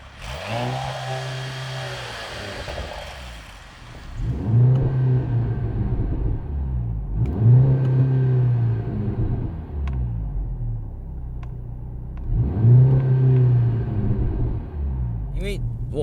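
A 2025 Mercedes-AMG C43 engine climbs through loud, close revs, dropping and rising again with each gear shift, three sweeping pulls in a row.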